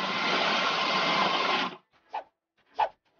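Mixing dough in a kids' cooking game: a steady whirring mixer hum runs loud for about a second and a half, then stops abruptly, followed by two short separate blips.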